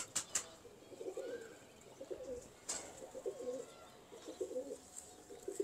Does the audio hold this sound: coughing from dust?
no